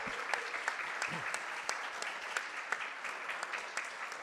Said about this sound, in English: let's give them a round of applause right now for everything they do